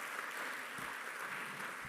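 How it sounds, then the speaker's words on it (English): An audience applauds at a national sports awards ceremony in Namibia, with soft, even clapping that sounds distant and is heard on its own, with no speech over it. "Let us give a round of applause to Lüderitz."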